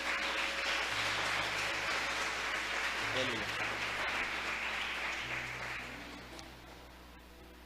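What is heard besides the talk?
church congregation applauding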